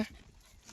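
A puppy gives a brief, faint yip or bark, a single short sound in under a second with nothing else prominent around it.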